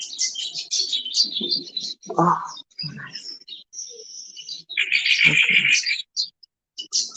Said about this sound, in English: I love these birds.